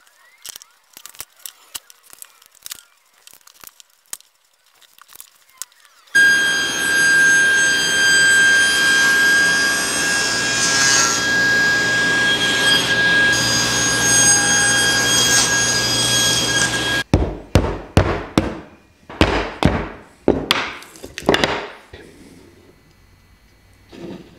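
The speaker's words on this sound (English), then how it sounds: "I think I'll stack them together and cut them all at once on the table saw." Table saw cutting through a stack of wood pieces at once, a loud sustained whine with a steady high tone lasting about ten seconds, framed by quieter workshop handling and talk before and after.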